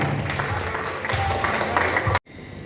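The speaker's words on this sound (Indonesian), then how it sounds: "Tepuk tangan dulu untuk Bapak Wali Kota." A crowd at a labour union meeting claps together for the mayor in a dense burst of applause that cuts off abruptly, with faint voices mixed in.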